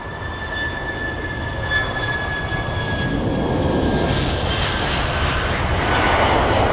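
Jet engines roar at an airport departure, a broad, steady rushing sound with a faint high whine that swells slightly toward the end, heard from a distance.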